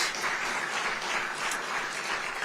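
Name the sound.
audience applause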